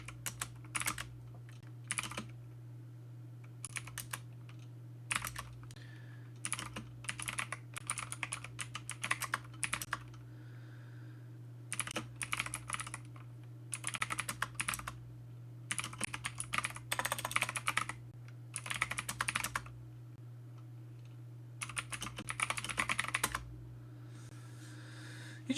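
Clicky computer keyboard typed in quick bursts of sharp, close keystrokes separated by short pauses, over a steady low electrical hum, with no voices.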